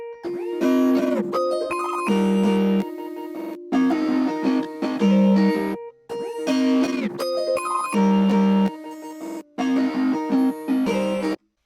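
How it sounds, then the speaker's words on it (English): Hyperpop melody with an added guitar layer, bright distorted tones and pitch-bending lines over sustained notes, looping in phrases broken by short silent gaps, loud and close with no talking. "there's another guitar layer right here"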